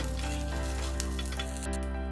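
Ajwain leaves sizzle and fry in oil in a kadai, giving a steady, close crackling hiss with a few brief louder pops, no voices.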